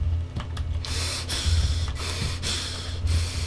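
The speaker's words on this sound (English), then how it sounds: "Gotta do the heavy breathing" Heavy, rhythmic breathing close to the mic during Borderlands play, a run of harsh forceful breaths and snorting gasps repeating at roughly half-second intervals over a steady low hum.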